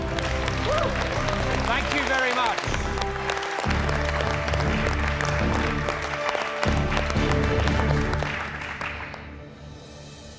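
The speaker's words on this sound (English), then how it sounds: "Let's give them a big round of applause." Studio audience applauding in a television cooking-competition kitchen, a steady wash of clapping that runs several seconds and fades near the end, with a voice speaking briefly over it.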